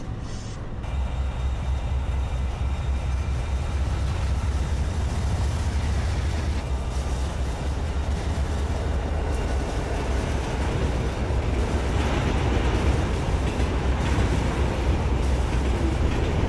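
An intermodal freight train rolls past close by as a steady, loud, continuous rumble and rattle of wagons that holds for the whole stretch, with no talking.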